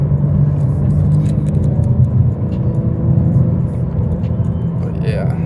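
BMW M3 Competition cruising slowly on a road, a steady low engine and tyre rumble from inside the cabin with no hard revving, continuous and moderately loud throughout.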